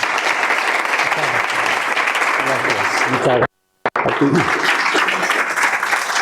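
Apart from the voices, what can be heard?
audience applause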